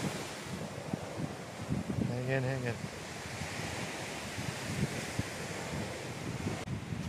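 Waves washing onto a beach by the sea in Thailand, a steady broadband surf wash with wind noise on the microphone, and a voice speaking briefly over it partway through.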